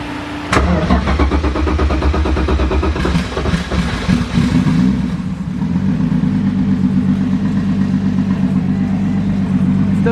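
A turbocharged BMW M3, damaged in a drifting crash, cranks briefly and fires up, then settles into a loud, steady, close idle with a deep rumble that holds for several seconds.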